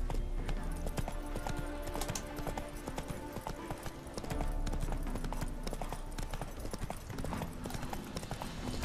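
Hooves clip-clop in a quick steady rhythm as a horse is ridden in The Witcher 3, up close and loud with game music and ambience beneath, and a brief whinny.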